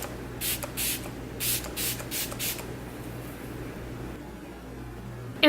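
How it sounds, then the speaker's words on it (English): MAC Fix Plus setting spray is spritzed onto a face in about six quick, soft hissing pumps close to the microphone, followed by quiet background hum. "take the Model in a Bottle or the MAC Fix Plus, whichever one you have on hand, and spritz my face"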